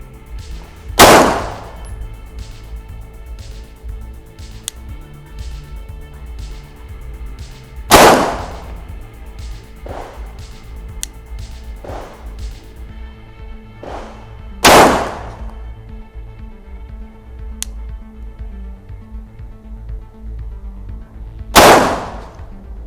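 A Glock 17 pistol fires slow, deliberate shots at a target: four loud, sharp bangs spaced several seconds apart, with fainter pops from other shooters echoing between them.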